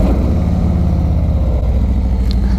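Harley-Davidson motorcycle riding, heard from inside an HJC RPHA 90 helmet: a steady, loud low engine drone mixed with wind rush, continuous throughout with no speech.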